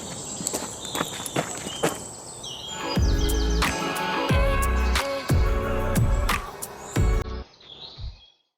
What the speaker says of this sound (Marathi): किल्ल्याच्या दिशेने जाताना बरेचसे झाडझुडूप व पक्ष्यांची किलबिलाट ऐकू येतो